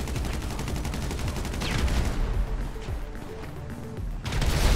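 Gunfire in the video game GTA V: a burst of rapid automatic shots that tails off into sharp scattered cracks, then heavy firing swells again at the end, loud and close.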